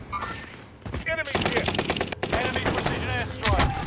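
Loud gunfire in Call of Duty: Modern Warfare, with rapid automatic bursts firing close and hard, mixed with game voices and chatter.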